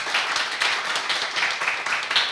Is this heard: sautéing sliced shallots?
no